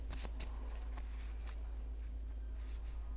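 Tarot cards being shuffled and drawn, a few quick papery riffles and slaps near the start and scattered soft card flicks afterward over a steady low hum.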